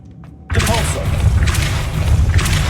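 A Depulso spell cast in Hogwarts Legacy lands as a sudden loud thump and whooshing burst after a brief hush, followed by rumbling and some crackle.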